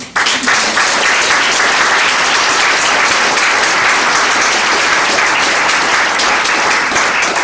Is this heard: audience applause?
yes